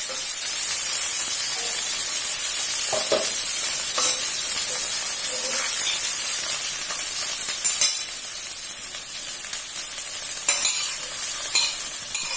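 Blended ginger and garlic paste sizzles and fries in a pan for sambal, a steady loud hiss with stirring scrapes throughout and no voices.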